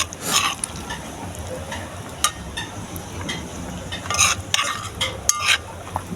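Saltfish frying and being stirred in a pot for a Jamaican fry-up with green bananas, with a steady crackling sizzle broken by repeated scraping and clanking of a utensil against the pot, close and continuous.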